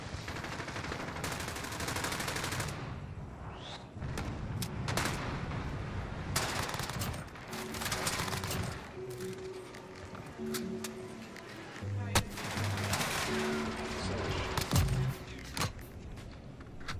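Rapid bursts of P90 submachine gun fire in a video game, repeated sharp volleys across the whole stretch, loud and close, with a player's voice talking between and over the shots.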